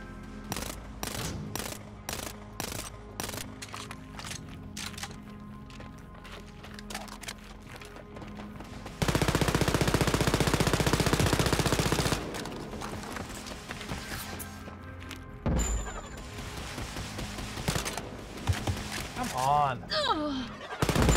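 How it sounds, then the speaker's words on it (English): Bursts of automatic gunfire from a mounted turret in the shooter game Wolfenstein: Youngblood, with rapid repeated shots early on and a dense, loud sustained stretch of firing in the middle, set among other combat noise. "There's also a fucking turret right there."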